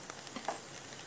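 Eggs for chicken fried rice frying quietly in a pan, a faint steady sizzle with a few small pops, heard alone.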